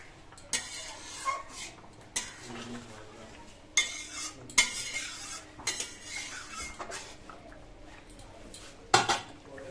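A metal lid lifted off a pan and bata fish slipped in during home cooking of a mankochu curry, with scattered sharp clinks and clatters of lid and utensils against cookware over a quiet background.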